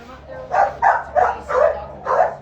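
Several dogs bark and yip in five evenly spaced bursts, loud and close, with a low background hum between them.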